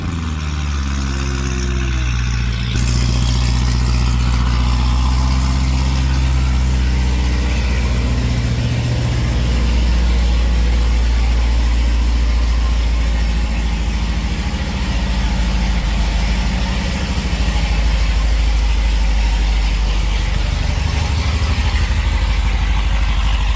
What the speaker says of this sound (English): What a better way to start a beautiful day than a nice cold start